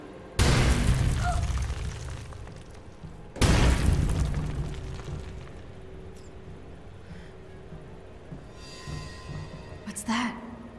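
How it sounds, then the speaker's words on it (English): Structure collapsing in the Marvel's Avengers game: two heavy booming crashes with long rumbling rolls of debris, followed by a lower sustained rumble and a faint sharper crash near the end, with game sounds layered throughout. "Sounds like this whole thing's falling apart."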